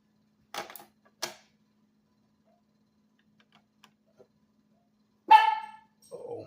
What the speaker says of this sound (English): Oh, might have a loose neighbor dog.